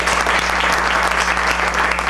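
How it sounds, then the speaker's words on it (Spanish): A concert audience welcomes pianist Laura Lambuley Murcia with loud, sustained applause, many hands clapping steadily together, with a low electrical hum running beneath. "Recibimos con un fuerte aplauso a la maestra Laura Lambuley Murcia."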